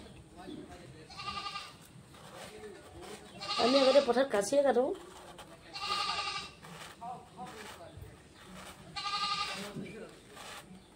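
Goats bleat repeatedly in a series of wavering, nasal cries spaced a few seconds apart, fairly close by, with a person talking quietly between and under the calls.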